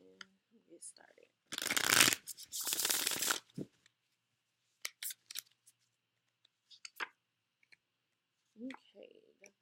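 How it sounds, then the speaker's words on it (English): A deck of tarot cards being shuffled in two brisk riffling bursts, followed by scattered soft clicks and card handling in a quiet room. "One more shuffle and get started."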